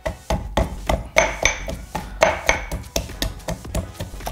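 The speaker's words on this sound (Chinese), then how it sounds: "这种蒜你可以在这个捣蒜器里面捣" Garlic for a roasted chili sauce is pounded in a garlic masher, making a rapid, steady run of sharp, close thumps and knocks, roughly three or four per second, with no talking.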